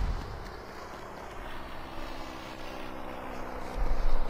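A helicopter in the video game Saints Row 2 drones with a steady mechanical roar and rotor hum, fairly loud and constant, swelling louder near the end.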